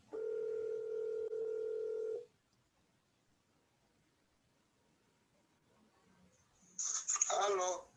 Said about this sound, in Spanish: Permíteme hacer una llamada nomás para que él pueda participar por teléfono